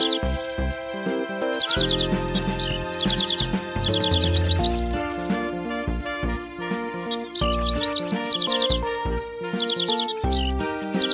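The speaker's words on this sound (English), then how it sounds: "Let the birds sing." Cartoonish birdsong in a pony care video game, repeated chirping trills over a bright, busy musical backing that continues throughout.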